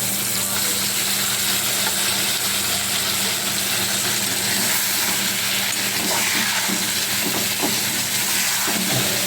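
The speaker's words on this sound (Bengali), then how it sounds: "এবার আলুগুলোকে আমি ভাজতে থাকবো" Potatoes fry in hot oil for a Bengali fish curry, giving a loud, steady sizzle and hiss throughout with faint stirring scrapes and no talking.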